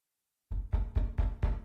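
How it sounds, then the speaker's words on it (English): Five firm knocks on a door in an even rhythm, close and solid, after a moment of silence. "she heard a knock on the door"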